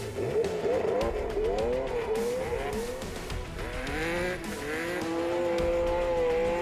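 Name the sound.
Porsche rally car struggling to get going again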